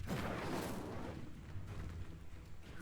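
A Confringo fire-blast spell from Hogwarts Legacy erupts in a loud, sustained roaring burst that fills the clip, with a rumbling low body slowly settling but never fading out.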